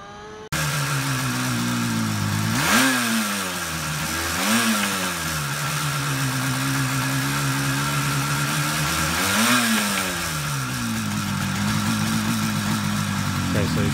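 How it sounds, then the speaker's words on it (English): A Yamaha RD motorcycle engine running close by, a steady two-stroke idle punctuated by three sharp revs that swoop up and fall back, loud and continuous with no talk over it. "I will put on screen now the RD running and revving so that you guys can hear."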